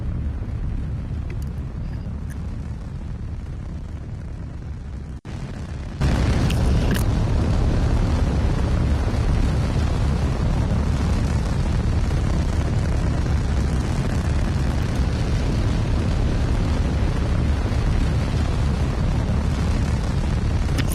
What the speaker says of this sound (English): And liftoff of the Mothra launcher